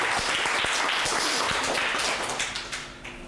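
Studio audience applauding on an Italian local TV football call-in show, a dense steady wash of clapping with sharp individual claps, fading out over the last second.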